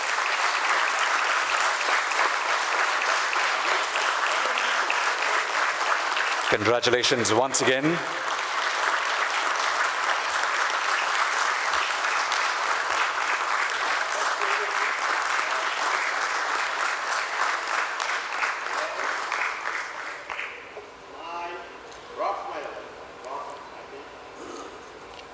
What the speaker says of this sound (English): a nice rousing round of applause for Yatra Online Limited